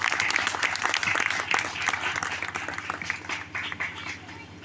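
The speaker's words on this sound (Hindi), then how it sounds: "उस यीशु मसीह के लिए सब जोर से ताली बजाकर उनको देना।" Dense, steady applause from a church congregation fills the room, loud and sustained throughout before thinning slightly at the end.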